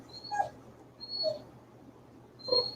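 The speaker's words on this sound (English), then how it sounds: "That's Shamar's dog" A dog lets out three short, faint whimpers, thin high whines spaced about a second apart, soft and somewhat distant over a quiet room background.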